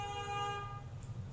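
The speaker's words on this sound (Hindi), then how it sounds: "sorry for that horn" A car horn honks once in a sustained tone from outside, fading after about a second, with low traffic rumble underneath.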